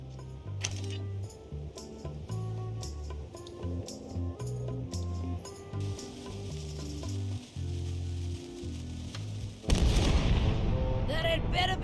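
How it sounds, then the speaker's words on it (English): Ship cannons firing in Return to Monkey Island amid a busy, clattering game soundtrack with repeated sharp metallic hits. Near the end one loud broadband blast bursts out and lingers. "Ready for cannon firing."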